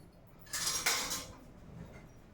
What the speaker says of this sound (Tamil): ஒரு கரண்டி வச்சுக்கிட்டு இதை நம்ம இலக்கி விடணும்.